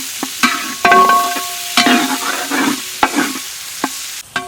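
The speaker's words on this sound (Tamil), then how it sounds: "இந்த கிரேவியில் இப்போ வந்து பெரிய வெங்காயத்தை இதில் சேர்த்து நல்லா வதக்க போகிறோம்" Large onions are sautéed in a quail masala gravy, with loud, close stirring scrapes and clanks of a spatula against the pan over a crackling sizzle, coming in uneven strokes.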